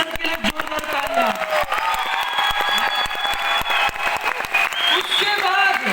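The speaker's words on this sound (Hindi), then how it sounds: "ऐसे मेरे पिता मिस्टर प्रवीण जे चंदन सर के लिए जोरदार तालियां।" Loud, sustained applause from a large audience at a corporate lifestyle event in India, with a crowd clapping steadily and some cheering throughout.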